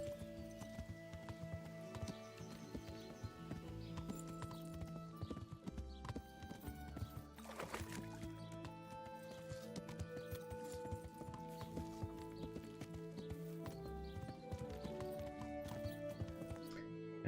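Steady clip-clop of horse hooves at a walking pace, with a whinny partway through, set against a busy soundtrack of music and ambient effects in the PC game Kingdom Come: Deliverance.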